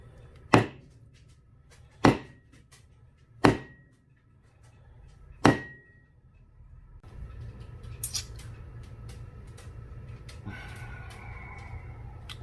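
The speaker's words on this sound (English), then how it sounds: "the back side of the meat cleaver, just to kind of hammer on it" Four sharp, heavy knocks spaced about every one to two seconds as the back of a meat cleaver hammers a coconut, followed by rustling and handling noise with a faint background hum.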